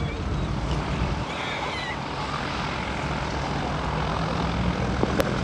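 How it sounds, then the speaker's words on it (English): A yellow Grumman Widgeon seaplane taxies and turns on a lake at a seaplane fly-in, its propeller engine a steady droning rumble heard at moderate distance for several seconds with no speech. "your yellow widgeon is turning and getting ready for takeoff"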